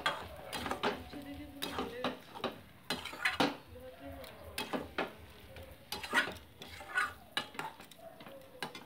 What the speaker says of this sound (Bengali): দিয়ে ভালো মতো ঘ্যাটের সাথে ধনেপাতা বাটাটাকে মিক্সড আপ করে নিচ্ছি আমি